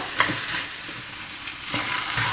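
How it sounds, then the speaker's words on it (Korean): Tofu ssamjang with minced garlic and doenjang being stir-fried in a pan, a close, steady sizzle with scraping stirring strokes throughout. "이제 골고루 섞어가면서 다시 또 2분간 볶아줄 거예요."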